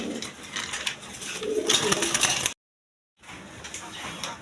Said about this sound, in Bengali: দেখেন একদম বিগ সাইজের কবুতর